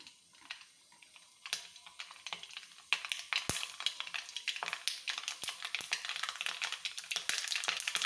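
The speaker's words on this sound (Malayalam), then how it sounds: "ഇനി നമുക്ക് കടുക് പൊട്ടിക്കാം. വെളിച്ചെണ്ണയാണ്, കടുകിട്ട് കൊടുക്കാം." Mustard seeds spluttering and popping in boiling coconut oil in a pan, with dense, irregular crackles that build in intensity, close and fairly faint, heard without talk.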